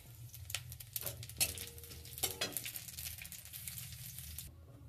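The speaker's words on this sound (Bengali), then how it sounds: "আমি আর একটু তেল দিয়ে দিচ্ছি। ফোড়ন দিচ্ছি একটা তেজপাতা, একটা শুকনো লঙ্কা, অল্প কটা কালো জিরে আর রাঁধুনি।" Bay leaf, dried red chilli, nigella seeds and radhuni spices frying in hot oil for a Bengali tempering, giving a steady close sizzle and crackle with brief sharper pops and light stirring, ending abruptly.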